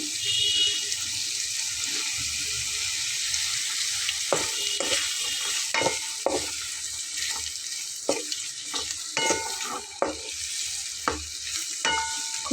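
Ground spice paste fries with kakrol gourd in a vegetarian dish, giving a low steady sizzle punctuated by regular sharp scrapes and knocks as a utensil stirs the pan.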